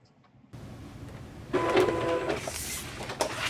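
A Silhouette Cameo cutting machine cuts a pennant design, its motor whirring and buzzing steadily up close, growing louder partway through with clicking carriage movements.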